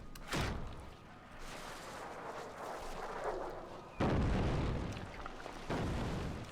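Gunfire and explosions from a strategy battle game, with a sharp burst near the start followed by a dense, continuous rumble of shots, then two more heavy booming hits later on, all loud and with no talk over them.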